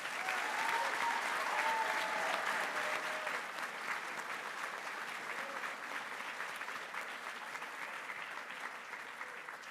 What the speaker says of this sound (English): that is something that should receive a round of applause